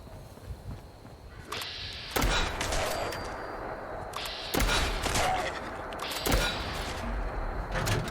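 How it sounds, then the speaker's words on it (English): A harpoon gun fitted with a flechette mod fires in Fallout 76, with a few loud, booming shotgun-like blasts spaced a couple of seconds apart, each trailing into a rumbling decay. "the harpoon gun with the flechette mod has torn through these ghouls pretty darn good"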